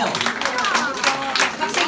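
Clapping rises from a church high school winter retreat worship audience, a short burst of scattered hand claps heard close and fairly loud, with voices mixed in.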